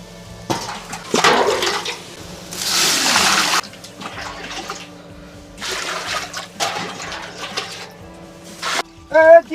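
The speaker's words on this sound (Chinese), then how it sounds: "你放锅倒水呀" Water pours into a cooking pot for homemade beef sausages in a pastoral Inner Mongolian kitchen. Running, splashing water comes in several bursts of varying strength, with a brief voice near the end.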